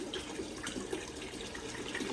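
Liquid pouring steadily into a bucket, vinegar mixed into the flush water for tankless water heater maintenance, a continuous quiet splashing gush for about two seconds with no voices.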